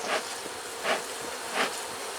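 Honey bees buzz faintly and steadily inside an open beehive during a brood frame inspection, a soft continuous hum with a few louder swells as individual bees pass close.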